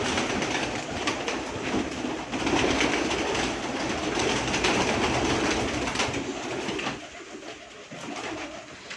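Pigeons on a rooftop coo under a steady, rumbling background that resembles passing rail traffic, fairly loud throughout and dropping away near the end, with no talk.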